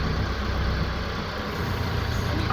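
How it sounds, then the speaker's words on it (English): A Branson F Series tractor fitted with a BH150 backhoe idles at a low tick-over, giving a steady, even engine rumble close by with no talk. "But you can hear the tractor's running a tick over."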